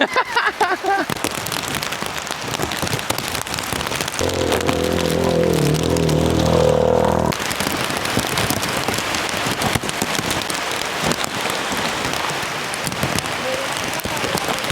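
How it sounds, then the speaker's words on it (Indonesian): Heavy rain pours down steadily on a forest trekking trail, a dense hiss of drops on surfaces, with a brief engine rumble in the middle. "ini hujannya gede banget"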